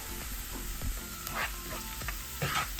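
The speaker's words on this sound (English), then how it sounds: "So this is 2 tablespoons of ghee, and I'm adding chopped onion. Cook onion until they turn light brown." Chopped onion fries in ghee with a soft, steady sizzle, while a spoon stirs and scrapes the pan every so often in low thuds and brief hisses, close and fairly quiet, no one speaking.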